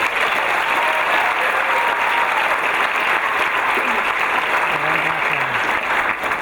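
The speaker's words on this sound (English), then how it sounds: "So give yourselves a big round of applause." Graduates applaud at a community college commencement ceremony, a loud, dense, continuous wash of clapping from a large crowd, with a faint voice or cheer briefly surfacing near the end.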